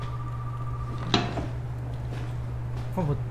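A drawer pulled open in Resident Evil 7, a short wooden scrape and knock followed later by a second clatter, over a steady game hum and low ambient drone.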